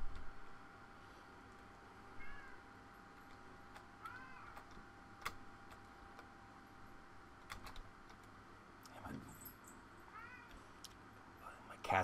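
Domestic cat meowing several times, faint and intermittent, over clicking keys and the soft bleeps of a 1984 Tarzan game on ColecoVision.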